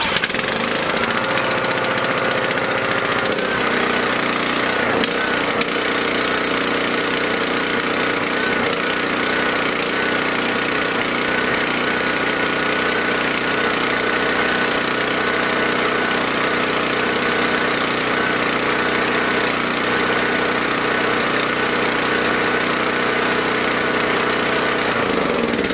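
A small gasoline engine running on fuel treated with Ethanol Shield runs steadily and loudly throughout, a constant rattling, knocking idle with no voices over it.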